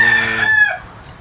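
A rooster crows loudly and close by, one long strained call that trails off into quiet.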